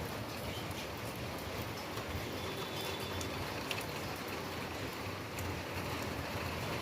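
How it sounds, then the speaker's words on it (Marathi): Heavy monsoon rain pours without pause in a steady, even hiss, moderately loud and unbroken, with a faint scattered patter on top and no voices. "रात्रभर खतरनाक पाऊस चालू आहे"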